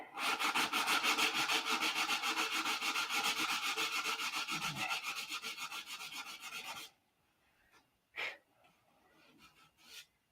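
Wood being sanded by hand with a sandpaper block, giving a loud, close rhythmic rasp of quick back-and-forth strokes for about seven seconds, then stopping, followed by a few faint scrapes and taps.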